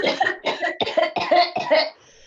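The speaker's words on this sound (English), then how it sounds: "Go ahead, turn over on your side and cough it all out." A person coughs repeatedly, five or six harsh bursts in a steady rhythm close up, then a brief quiet at the end.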